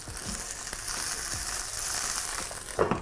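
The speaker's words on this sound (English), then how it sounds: "all the steam from the frying kale it'll just steam and kind of infuse with the garlic flavor and the oil" Kale frying with garlic and oil in a covered pan gives a steady close sizzle and hiss throughout, with a few soft knocks and a brief louder burst near the end.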